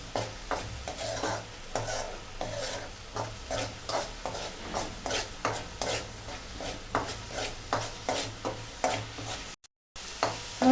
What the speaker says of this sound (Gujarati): આ રીતે આપણે એને તેલ છૂટું પડે ને ત્યાં સુધી આપણે એને હલાવવાનું છે.